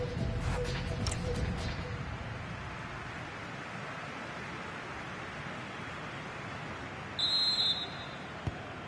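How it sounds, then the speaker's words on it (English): A half-time referee whistle in a football video game gives a short, shrill, high blast late on, after a long stretch of steady crowd-like noise and some early tones. "And there it is, the half-time whistle."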